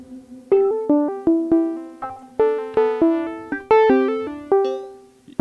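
Synth through a delay unit at about half wet, half dry: loud plucked notes with sharp attacks and quick decays, each followed by softer trailing echo repeats in a melodic pattern.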